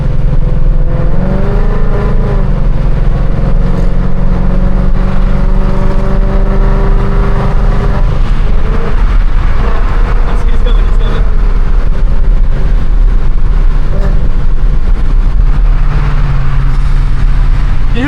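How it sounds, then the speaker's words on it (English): Loud, close engine roar and revving inside a catless, straight-piped Mustang GT during a street race against an M4, with excited voices talking over the noise. "You hear the turbos?"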